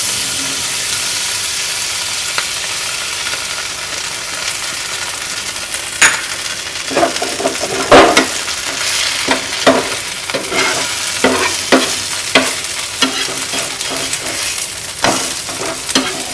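A butter-loaded dosa sandwich, a double-layered uttapam, sizzles loudly on a hot pan: a continuous crackling hiss, joined in the second half by irregular scrapes and taps of a spatula, with no talking.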